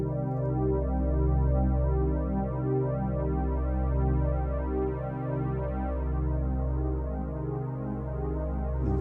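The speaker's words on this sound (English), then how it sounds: "this is an actual vintage Roland JX-8P" Vintage Roland JX-8P synthesizer playing its Soundtrack preset pad, a warm, sustained chordal drone with a slow pulsing throb, loud and close, held unbroken throughout with no voices.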